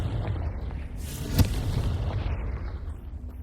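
A Confringo blasting spell in Hogwarts Legacy goes off as an explosive crack and boom in the middle, set against a constant low game rumble that continues around it.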